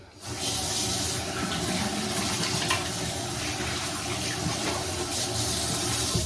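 A bathroom sink tap runs steadily as someone washes their face at night, a loud, close, continuous stream of splashing water that starts abruptly and carries on throughout without talk.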